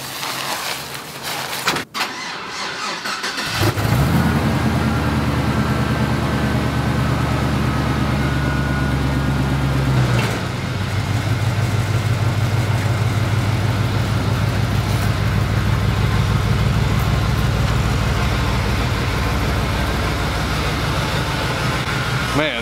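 A squarebody Chevrolet C10 pickup with an LS swap, long left sitting, cranks over and catches, then settles into a loud, steady, deep idle on a cold day, with a brief rev change midway and people talking under it.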